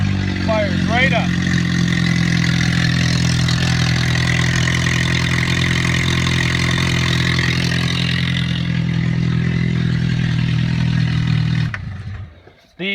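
A 1999 Chevy Cavalier/Pontiac Sunfire 2.2 demolition derby car, run with almost no radiator, starts and idles in a loud steady rumble close by, then cuts off abruptly near the end.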